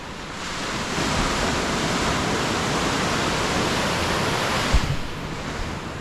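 Ocean surf breaking on the shore below a high vantage point, a continuous loud wash of rushing water with steady wind over the microphone and a brief thump near the end.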